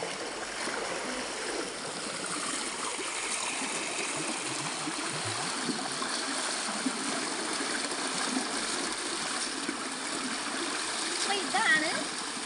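Water rushing steadily through a small stream or canal swollen after rising, a continuous broadband wash at moderate level that stays even and unbroken throughout.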